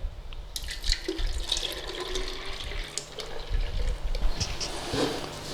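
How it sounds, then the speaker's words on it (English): Custard mixture poured from a bowl or jug over bread for traditional British bread and butter pudding makes a steady liquid pour with wet splashes and drips, close and continuous. "all you need to do is pour your custard mixture over your bread"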